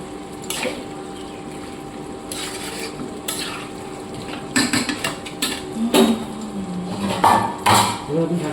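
Mutton for a potato curry is stirred in a pot, with repeated scraping and clattering of a spoon against metal, growing busier toward the end.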